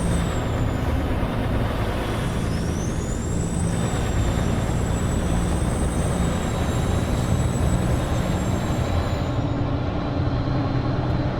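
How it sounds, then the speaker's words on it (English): Truck turbo whine in a trucking video game, a thin high whistle that rises and holds over a dense, steady engine rumble. "the turbo whine is beautiful"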